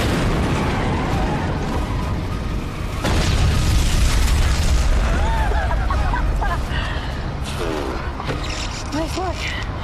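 A rocket launcher fired from a moving vehicle in an action film produces a loud, sustained explosive rumble with bursts and debris, heard within a dense action-movie mix.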